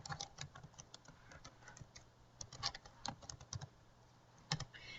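Keystrokes on a computer keyboard while an email address is entered into a classroom wiki's invite form, fast and uneven clicks close by, with a few louder taps standing out and no voices.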